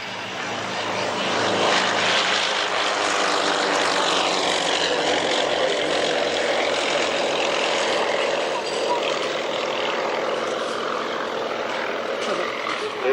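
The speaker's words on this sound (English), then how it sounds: "Very high performance, lightweight Russian aircraft." A lightweight, high-performance Russian aerobatic plane performs at an airshow, its engine roaring loudly and steadily throughout, with a faint public-address voice underneath.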